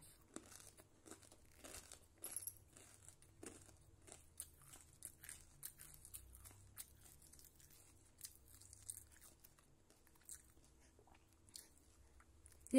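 A baby chews and bites a crunchy murukku snack up close. Faint intermittent crunches and crinkles sit over a low background hum, with no talk.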